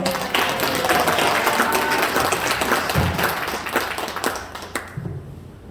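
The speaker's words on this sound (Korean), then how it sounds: "큰 박수로 환영해 주시기 바랍니다" Loud, sustained applause from a church congregation welcoming a pastor, steady for several seconds before thinning out and fading near the end.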